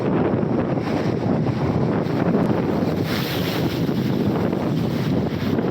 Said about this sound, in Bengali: আকাশে মেঘের ছোঁয়ায় ঢেউগুলো উঠে যাচ্ছে